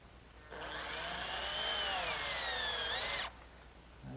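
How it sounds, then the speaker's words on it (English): A power drill drives a screw partway into wood to start a pilot hole while building a round table, whirring loudly and steadily for about three seconds before stopping. "I'm just going to take a screw and partially drive it in to sort of give me like a pilot hole."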